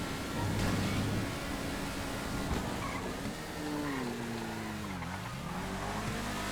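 A race car in GTA FiveM drives hard in a long race, its engine droning and climbing in pitch through gear changes, with tyres squealing in places.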